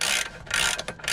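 A ratchet wrench spins a coilover bolt on a BMW E30 Touring, giving a close, brisk run of rapid metallic clicks that pause briefly and resume.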